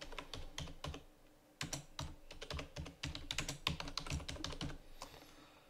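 Close, brisk typing on a computer keyboard in rapid uneven bursts of key clacks, pausing briefly once before resuming with dense keystrokes and fading toward the end.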